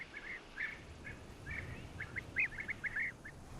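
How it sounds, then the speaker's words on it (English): European bee-eater (Merops apiaster) in Moroccan farmland, giving a series of short, rolling, liquid calls in irregular bursts, somewhat distant and faint over low background noise. "It's a Merops apiaster, or European bee eater."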